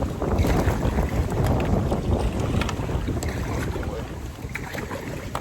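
Strong wind gusting across open water while a kayak is paddled, heavy rumbling wind buffeting the microphone continuously with faint water splashes beneath.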